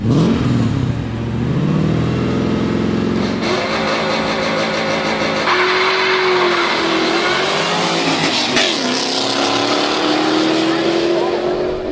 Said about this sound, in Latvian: divas mašīnas, kas skrienās